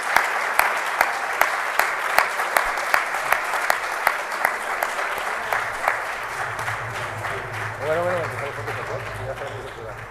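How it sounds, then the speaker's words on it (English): Applause from a summit audience greeting the final candidates at a deep tech event, steady rhythmic clapping that fades out gradually while a voice speaks over the end. "And big applause for them."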